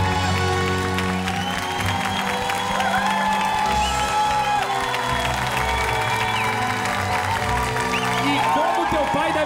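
A studio audience applauds and cheers loudly and steadily in a tribute to Brazilian TV host Carlos Alberto de Nóbrega, a dense wash of clapping with whoops and crowd voices mixed in throughout.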